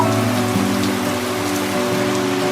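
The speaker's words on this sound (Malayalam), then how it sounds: "നല്ല മഴയാണ്" Heavy rain pours down steadily, a dense continuous hiss and patter on surfaces with no voices.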